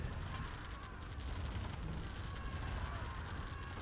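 Massed mini gunner infantry firing in a Command & Conquer-style real-time strategy match, Nod versus Nod, a faint continuous crackle of rapid gunfire and distant booms with no break.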